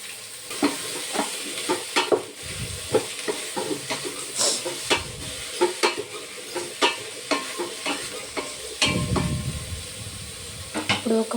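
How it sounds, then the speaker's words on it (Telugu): Beetroot and capsicum stir-fried in a pan give off a steady sizzle, with frequent scraping and clinking strokes of a stirring utensil against the pan running through the whole stretch. "ఇప్పుడు ఒక 5 minutes మంచిగా వేగనిద్దాము."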